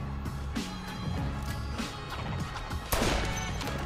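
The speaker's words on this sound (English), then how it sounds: "Was that a gunshot?" Gunfire in the Saints Row video game crackles amid dense, noisy action, with a sharp loud shot standing out near the end over a busy game mix.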